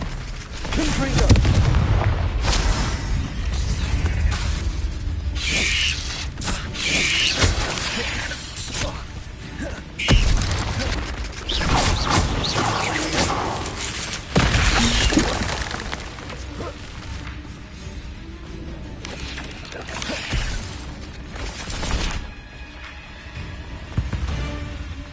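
Spells such as Confringo, Incendio and Expelliarmus cast in a Harry Potter video game, heard as loud booming blasts and explosive magical impacts over a continuous rumbling game soundtrack.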